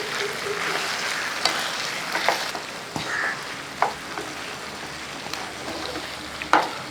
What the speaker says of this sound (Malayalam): ആ ചിക്കനെല്ലാം ഇട്ട ശേഷം നമുക്കൊന്ന് ഇളക്കി കൊടുക്കാം